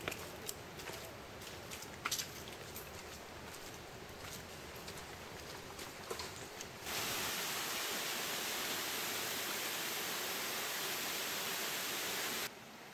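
A waterfall in Hawaii gives a steady broadband rush that jumps sharply louder midway as it comes close, then drops back near the end, with scattered clicks and no talk.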